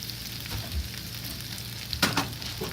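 Boiled potatoes fry and sizzle in a pan for a Spanish tortilla while being chopped and stirred, with a steady close hiss and a few soft scraping knocks.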